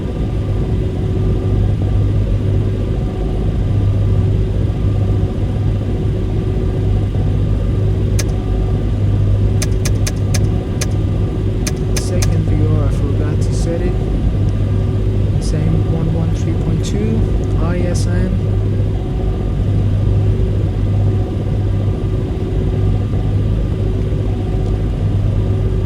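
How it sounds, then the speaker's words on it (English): Airport push truck approaching an Airbus A300B airliner, a steady low engine rumble and drone at the gate, with a voice talking over it and a few brief clinks partway through. "As you can see, the push truck is coming up."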